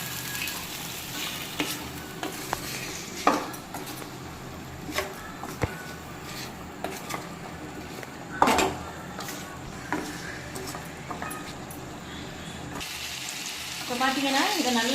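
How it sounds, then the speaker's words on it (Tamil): Cauliflower and peas fry in oil for a kurma and get stirred, making a steady sizzle broken by sharp spoon-against-pan scrapes and knocks, with a louder burst of frying near the end. "இப்போ அதை நல்லா கிளறி விட்டுக்கலாம்."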